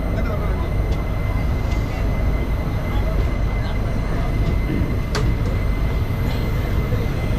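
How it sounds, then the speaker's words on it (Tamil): Madurai–Guruvayur train passing the Bhagavathipuram crossing, a continuous rumbling roar of rail cars rolling by with faint clicks and one brief sharp squeal, heard from close range. "அதே மதுரை குருவாயூர் தான் நம்ம ட்ரெயின் தான்"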